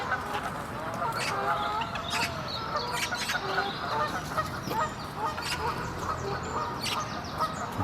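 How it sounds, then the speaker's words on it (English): Canada geese honking at a park lake, repeated loud calls and overlapping honks from a flock at mid-distance, with quieter clucking from other waterfowl nearby. "Certainly the Canada geese have got a lot to say for themselves."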